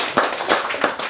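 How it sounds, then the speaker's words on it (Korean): A few hand claps from the audience at a talk in Baengnyeonam hermitage at Haeinsa temple: three sharp, separate bursts about a third of a second apart against a quiet room. "박수 한번 쳐줘."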